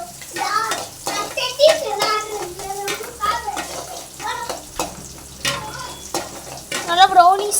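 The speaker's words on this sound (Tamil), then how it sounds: "நல்லா கிண்டணும். அது ப்ரௌனிஸாக வரணும்." Small onions for a mola roast fry and sizzle in a pan while being stirred, with steady crackling and scraping strokes close up as a voice talks over the cooking throughout.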